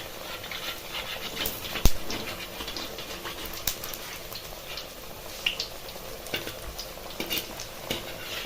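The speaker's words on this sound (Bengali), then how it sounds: "এভাবে উল্টে পাল্টে ভালো করে লাল লাল করে ভেজে নিতে হবে" Papaya pakoras frying in hot oil as they are turned, a steady soft sizzle with occasional sharp clinks and scrapes of a utensil, close and moderately loud, no talking.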